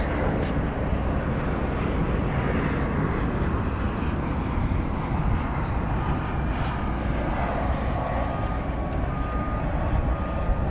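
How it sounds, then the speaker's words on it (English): Airbus A321 on the runway at night at DFW airport, its jet engines giving a continuous broad loud roar that holds steady for the whole stretch, close by and without talk. "It's an Airbus A321 here on Runway DFW After Dark."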